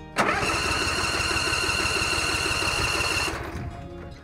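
A lawnmower engine catches and runs steadily at a loud, buzzing idle for about three seconds, then cuts off abruptly, leaving a faint tail.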